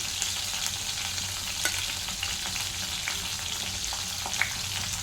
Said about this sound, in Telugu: కొంచెం కరివేపాకు కొంచెం ఫ్రై చేసుకున్నాం